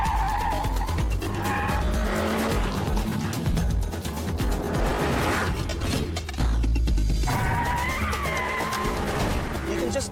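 A Renault Megane 265 hot hatch is driven hard on a race track, its engine roaring steadily with tyres squealing through corners, loud and close, while a voice talks over much of the run.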